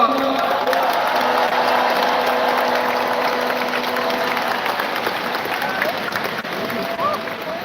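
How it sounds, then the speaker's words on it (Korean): Audience at a party convention applauding after a newly elected party leader's acceptance speech, a dense continuous wash of clapping with some mechanical-sounding rattle mixed in, holding steady for several seconds. "수고하신 분들을 위해서 큰 박수 부탁드립니다"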